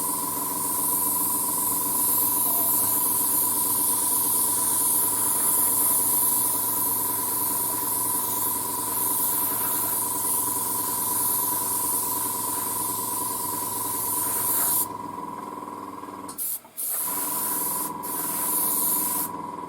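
An airbrush sprays white paint onto a 1:35 scale Trumpeter E-50 Standardpanzer model tank, a steady close hiss with a compressor hum beneath that runs unbroken for most of the span, then stops and restarts a few times near the end.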